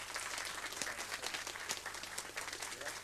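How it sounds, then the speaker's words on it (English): Conference audience at FOSDEM clapping for a speaker, a fairly quiet but continuous patter of many hands with distinct individual claps standing out. "Everyone, please, big hand of applause for Jon."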